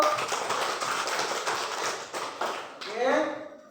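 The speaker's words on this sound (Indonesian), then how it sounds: "Kita tepuk tangan dulu." A group of schoolchildren in a classroom clap their hands together in a burst of rapid, fairly close applause that fades near the end, followed by voices talking.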